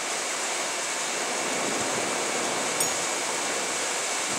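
Steady wind blows outdoors at a cooking spot, a dense, constant broadband rush that stays loud and even throughout, close to the microphone, with no voices.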